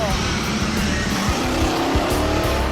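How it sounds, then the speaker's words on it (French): A 1990s car engine running on moonshine alcohol, idling roughly and sputtering in a steady loud drone with irregular low knocks. "Le moteur a l'air de tout sauter."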